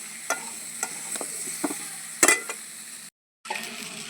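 Raw banana and potato with turmeric sizzle softly in a pan, with regular scraping taps from a spatula turning them. A sharper clink comes midway, and the sound briefly cuts out near the end before the frying resumes.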